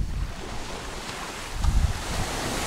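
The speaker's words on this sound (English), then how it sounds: "It's a beach." Ocean waves wash steadily onto a Thai island beach, a continuous surf roar with a slightly stronger swell near the middle, mixed with wind buffeting the microphone.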